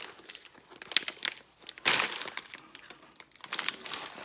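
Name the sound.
opening a crinkly plastic snack package of Chinese chips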